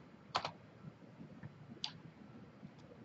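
Typing on a computer keyboard while entering dimensions for a 3D design: a few quick, close key clicks in two short bursts, with a lone tap near the end over a quiet room.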